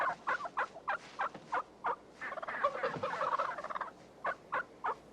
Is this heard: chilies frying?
no